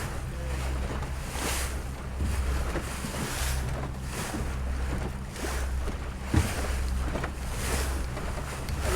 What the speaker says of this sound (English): That wind picked up a bit. Gone more easterly